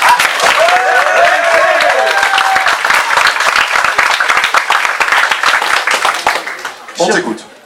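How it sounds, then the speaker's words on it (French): An audience at a French eloquence contest final claps in loud, sustained applause that fades away near the end, with a voice speaking briefly at the start and again as the clapping dies out. "on peut t'applaudir quand même"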